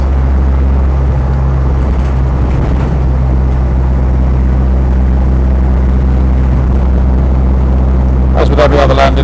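A Land Rover 110 diesel hardtop cruises in fifth gear, its engine a loud, steady low drone and cabin rumble throughout, with a brief voice near the end.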